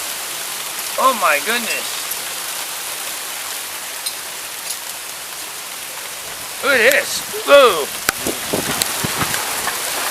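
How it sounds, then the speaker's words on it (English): A major hailstorm pours down steadily as a broad, continuous hiss of falling hail, while excited voices break in over it near the start and again later on. "We got a major hailstorm going on."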